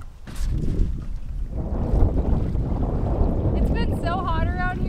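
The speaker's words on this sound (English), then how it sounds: "hopefully the audio isn't too jacked by the wind" Wind buffeting the microphone aboard a small fishing boat out on the water: a steady low rumbling roar throughout, with a voice heard near the end.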